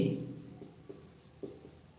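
Chalk or marker writing out a math solution on a classroom board makes a few quiet, soft strokes and taps in a hushed room.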